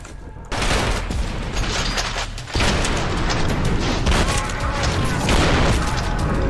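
Gunfire in a video game, a loud, dense run of shots and booming impacts layered over busy game noise, with a sharp step up in loudness partway through.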